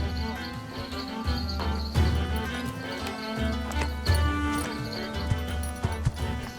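Horses clip-clopping and neighing in the Age of Empires IV strategy game, steady hoofbeats with occasional whinnies over a busy in-game soundscape with faint bird chirps, continuous and moderately loud.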